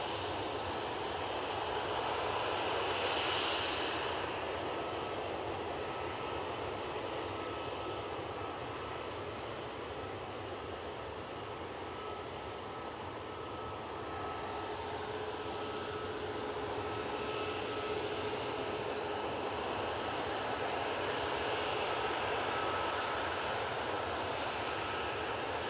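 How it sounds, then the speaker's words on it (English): Turboprop engines of an Aer Lingus ATR 72 regional airliner spool up with a sustained droning roar and a thin steady whine, loud and continuous, no voices. "Next in, we've got the Aer Lingus ATR Regional coming from Belfast, Dublin even, ATR 72."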